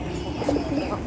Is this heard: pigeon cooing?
yes